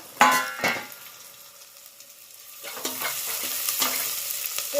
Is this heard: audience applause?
no